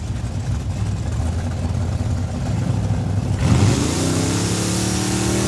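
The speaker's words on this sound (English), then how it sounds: "Oh, that's not a Mustang, that's a Camaro." A Chevrolet Camaro drag car at Saskatchewan International Raceway, a loud engine burbling then revving hard and rising in pitch as it launches partway through, continuing at high revs.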